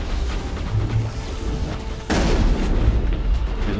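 A small missile explodes in Mass Effect, a sudden loud boom at about the two-second mark that lifts into a dense, sustained roar over steady low rumbling battle noise.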